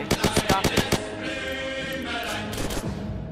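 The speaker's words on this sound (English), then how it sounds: "Stop shooting this boy." Gunfire in Unturned: a quick string of about seven loud, sharp shots in rapid succession, then a ringing lull with a few more distant pops.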